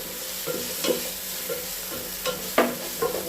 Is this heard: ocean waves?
no